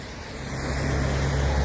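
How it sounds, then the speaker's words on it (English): Road traffic on a rainy day: a steady wash of wet hiss with a low vehicle rumble that swells as a car passes close by, loud and continuous. "So loud on this road."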